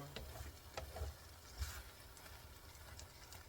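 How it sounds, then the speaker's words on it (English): Corn frying in a cast iron skillet, a soft, low sizzle with occasional scraping and clinking as it is stirred, faint and close. "Fry this corn."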